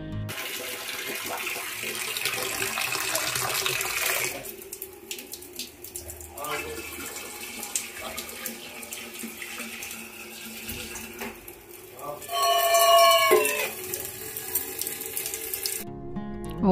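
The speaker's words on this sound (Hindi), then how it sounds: "अपना जो पीने का पानी है उसको पूरा फुल करके मैं सोती हूँ।" Kitchen tap running at night to fill drinking water, a continuous stream of water with shifting pitch as the vessel fills, rising louder near the end, with someone talking over parts of it.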